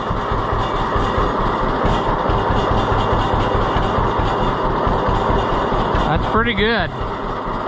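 A John Deere B tractor engine idles after a cold start with a newly installed carburetor, giving a loud, steady, pulsing two-cylinder chug throughout, with someone speaking briefly near the end.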